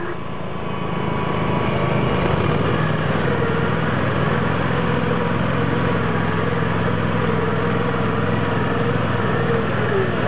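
An ATV engine on four-wheel drive drones steadily and loud while pulling a cart at a campground, close by with no pauses, its pitch wavering slightly as it revs, with faint voices in the background.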